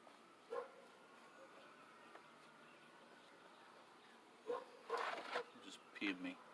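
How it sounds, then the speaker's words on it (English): A dog barks once at a distance, then a run of several barks follows near the end, over an otherwise quiet background. "What are we barking at?"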